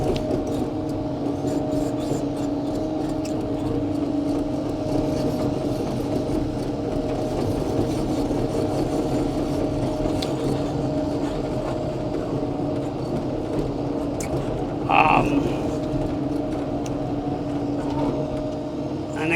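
A 2018 Caterpillar Cat 308E2 CR hydraulic excavator with rubber road liner pads runs steadily nearby, its diesel engine and hydraulics humming in a constant drone as it swings around, with one brief squeal partway through.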